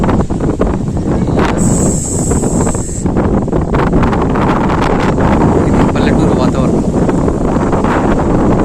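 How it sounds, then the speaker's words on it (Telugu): Loud, steady wind buffeting the microphone throughout, with a brief high whine partway through and a faint voice underneath. "చాలా రోజులు అవుతాయి ఇట్లాంటి గాలి, ఇట్లాంటి వెదర్ చూసి"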